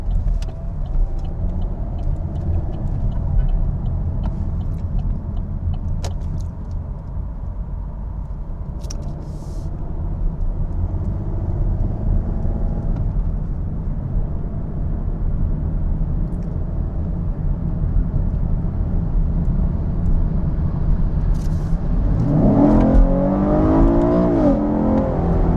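A car accelerates steadily onto the 405 freeway near LAX, a continuous close road rumble and tire whir swelling gently over the stretch, with no talking.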